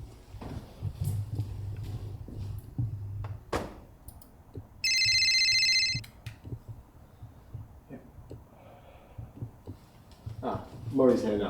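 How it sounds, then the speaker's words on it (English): An office telephone rings once in a clear electronic trill burst, loud and near, surrounded by office chatter and movement noises before and after. "Miss Hopkins is on the phone for you."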